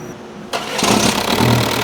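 A Ford Ranger pickup with a dead battery cranks briefly, then its engine catches and settles into a steady, fairly loud idle rumble.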